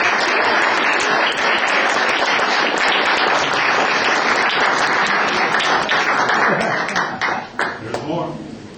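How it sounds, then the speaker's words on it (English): Loud, sustained applause from an audience greeting the filmmakers of short films at a Q&A, a dense wash of clapping with some cheering that thins out toward the end. "Let's give them a round of applause."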